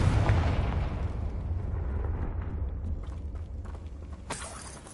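Confringo fire spell blasting a Puffskein statue in Hogwarts Legacy: a loud fiery explosion with a deep boom that rolls on as rumbling crackle, ending in a sharp shattering burst near the end.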